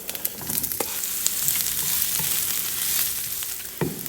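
Onions sizzle and fry in oil heated over medium-high heat in a pan, a steady close crackle with occasional sharper pops and light stirring clicks, no talking.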